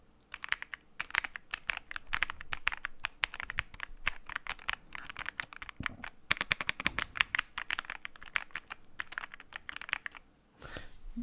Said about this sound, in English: Just a little fucking keyboard porn for you guys.